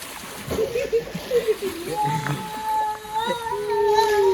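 Water splashing in a villa swimming pool in Lonavla, with irregular close splashes and churning while people's voices carry on over it.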